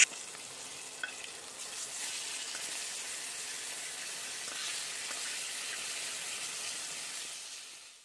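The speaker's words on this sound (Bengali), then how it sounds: "মাছের জন্য এদিকে বসিয়েছি মশলা কষাতে" Spice masala cooking down in a pan for a fish curry gives a steady, close sizzling hiss that runs unbroken throughout, with no voices.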